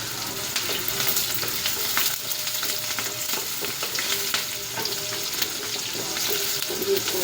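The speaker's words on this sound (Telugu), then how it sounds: "ఇది గోల్డెన్ కలర్ వచ్చేంత వరకు వేయించుకోవాలండి." Curry leaves crackle and sizzle in hot oil for an ivy gourd (dondakai) gravy curry, a steady dense frying hiss with scattered pops and occasional stirring scrapes, close and continuous with no talking.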